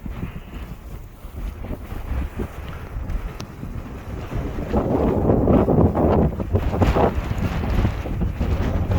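Strong wind gusting across an open coast near The Wash in South Holland, England, buffeting the microphone with a steady roar that swells louder in the second half, with no voices.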